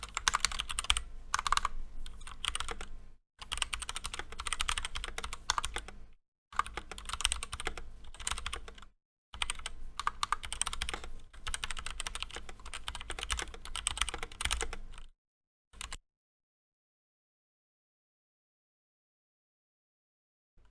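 Typing on a white 60% mechanical keyboard with looped stabilizers, rapid clacky keystrokes in several bursts separated by short pauses, close and alone, ending in silence.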